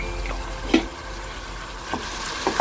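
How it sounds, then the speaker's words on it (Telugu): Onions and tomato pieces stirred and fried in a pan, a low steady sizzle with a few soft scraping strokes of the spoon, close and fairly quiet. "బాగా కలుపుకొని ఫ్రై చేసుకుందాం."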